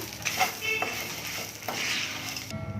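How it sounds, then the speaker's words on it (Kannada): Rasam mixture being stirred slowly after half a spoon of turmeric powder goes in, a soft close scraping and sloshing with a few light clinks of the spoon against the pot, steady throughout. "ಹಾಕೊಂಡಾದ್ಮೇಲೆ ಇನ್ನೊಂದ್ಸಲ ನಿಧಾನಕ್ಕೆ ಈ ರೀತಿ ಮಿಕ್ಸ್ ಮಾಡ್ಕೊಳ್ಳೋಣ"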